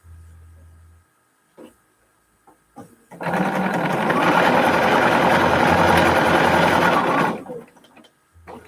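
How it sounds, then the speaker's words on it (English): A sewing machine runs in one steady burst of about four seconds while green quilt pieces are stitched together. It is loud and close, with brief faint handling noises before and after and no talk. "I'm going to sew the pieces together."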